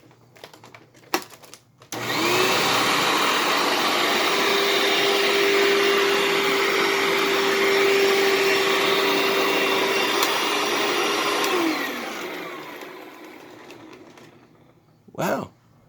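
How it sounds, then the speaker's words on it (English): A 2019 Hoover WindTunnel vacuum cleaner switches on after a few clicks, roars at a steady loud pitch for about ten seconds, then winds down, with a final clunk. "let's start with now the 2019 Hoover Wind Tunnel"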